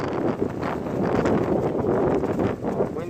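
Strong outdoor wind buffeting the microphone during an Eachine QX90C micro drone flight, a loud continuous roaring rumble with gusty swells, close and steady.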